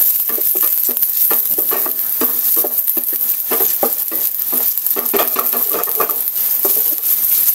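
Garlic, onion and ginger cooking in oil in a pan, with a steady soft sizzle broken by frequent clicks and scrapes of a spoon stirring against the pan, close and with no talking.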